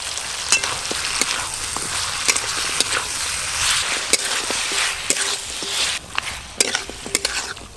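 Chopped onions fried in mustard oil in a kadai, stirred continuously, produce a loud, close sizzle broken by repeated scraping clicks and knocks of a spatula against the pan.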